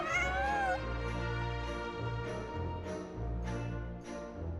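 A cat meows repeatedly inside the Genshin Impact video game, several drawn-out close meows in a row, with a brief voice at the very start.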